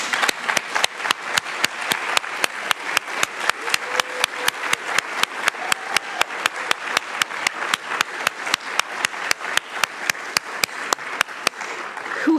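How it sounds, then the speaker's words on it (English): An audience at a university award ceremony gives steady, sustained applause, with sharp rhythmic claps standing out close by over the broad wash of clapping from the crowd. "did not get to receive an applause in recognition of her presidency, Professor Sigrid Quack."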